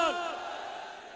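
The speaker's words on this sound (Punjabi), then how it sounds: "ਜਿਹੜੇ ਸਹਿਮਤ ਨੇ ਉਹ ਜਕਾਰੇ ਦੇ ਰੂਪ ਦੇ ਵਿੱਚ ਜਵਾਬ ਦੇਣ" A crowd of Sikh listeners roars back the jakara war cry together, a loud sustained collective shout that starts strong and trails off over a second.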